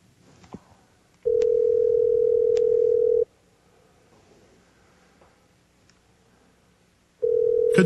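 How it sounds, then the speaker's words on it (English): A telephone rings during a live call in two long, loud steady tones, one about two seconds and another starting near the end, separated by quiet line noise. "is why you hear the ringing"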